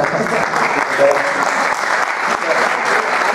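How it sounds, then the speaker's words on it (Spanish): Audience applause at a talk on mass media: a sustained, even wash of clapping from a seated crowd, loud and steady throughout with faint voices underneath. "Un aplauso"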